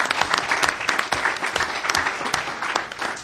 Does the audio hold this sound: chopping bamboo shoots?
no